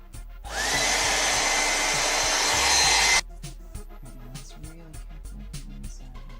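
A hair dryer blows steadily over a wet watercolor painting for about three seconds with a loud, even roar, then cuts off, leaving quiet tapping and handling sounds.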